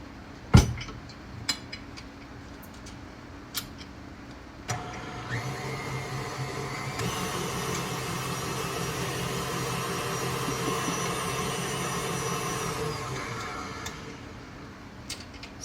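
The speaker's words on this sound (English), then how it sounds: "I'm going to go ahead and whisk it for another 3 minutes." An electric mixer whisking butter for buttercream: a few sharp knocks at first, then the motor starts and holds a steady whirring drone for several seconds before winding down, with no speech.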